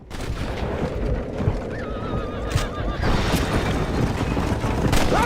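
Horse in the video game Red Dead Redemption neighing with a wavering whinny in the middle, while a steady gallop of clip-clopping hooves runs throughout and grows louder toward the end.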